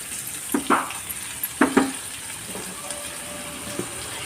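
Prawns and drumsticks sauté in a pan for a curry, with a low sizzle and several clattering stirs and scrapes of a spoon, some in quick pairs, then a quieter stretch.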